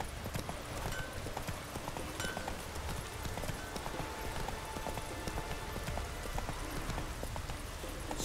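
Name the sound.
horse Roach galloping in video game The Witcher 3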